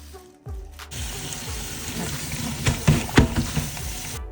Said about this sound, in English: I went back home and I started washing them berries